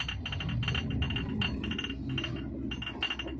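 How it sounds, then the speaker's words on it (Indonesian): Glasses clink and rattle over and over in the back of a semi-campervan car driving along a slightly bumpy road, the bright chinks coming in irregular bursts above a steady low rumble of road noise. "Jalanan kita sedikit bergoyang teman-teman ya, dan terdengar bunyi gelas ya."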